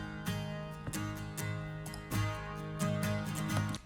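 A regular acoustic guitar strummed in steady rhythmic chords with a bright, shimmering tone reminiscent of a 12-string, ringing out alone and close.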